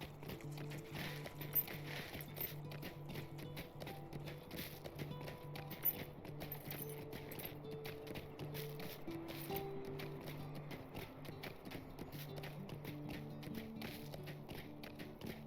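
Steady clip-clop of horse hooves at a walking pace in Lord of the Rings Online, soft and even, over a constant background hum with music-like tones.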